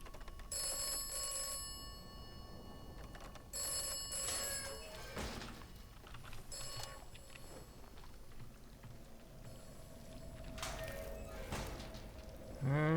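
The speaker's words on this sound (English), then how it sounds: "I'm not answering you, you fucking phone." An old-style telephone bell rings in repeated metallic bursts in the video game Atomfall, moderately close, with quiet rain-like ambience between rings and no talk over it.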